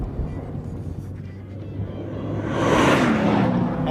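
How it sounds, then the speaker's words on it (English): A Corvette Z06's 7-liter V8 on a racetrack rumbles low at first, then swells into a loud rising rev as the throttle opens toward the end. "And the 7-liter V8 is absolutely addictive. Just listen to that."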